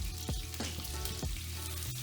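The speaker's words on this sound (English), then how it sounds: "leave it to cook on one side for around 30 or so seconds till it starts to brown" Pork for Vietnamese braised pork sears in a hot pan, giving a steady close sizzle with a few sharp spits and crackles rising over it.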